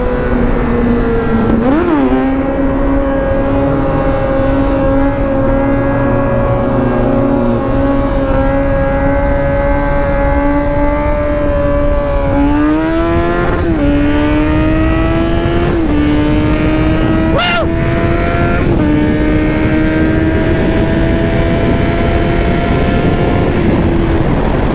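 A naked street bike accelerates hard through a tunnel, its loud, sustained engine howl climbing in pitch through several gear shifts, with echo from the enclosed space and no talk.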